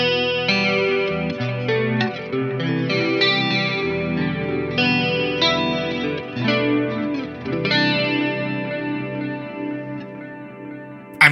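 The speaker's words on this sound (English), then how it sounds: "we're going to go choose a digital delay to put in our rack A" Electric guitar played through a digital delay in AmpliTube 5 software, set for an 80s tone in a stereo rack; sustained chords and notes ring out with heavy repeating echoes and chorus-like shimmer, loud and continuous with no talking.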